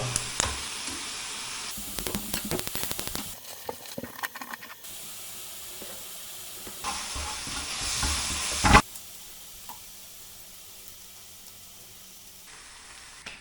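A tortilla heats in a hot pan, giving a soft steady sizzle and hiss with bursts of steamy spray and a few clinks, then a sharp clack before a quieter tail.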